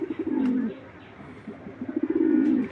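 Pigeons of racer and grizzle breeds coo close by in two distinct low, throaty bursts separated by a short pause, clear over a quiet background.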